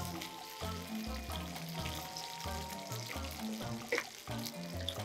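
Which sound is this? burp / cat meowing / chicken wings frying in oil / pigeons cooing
chicken wings frying in oil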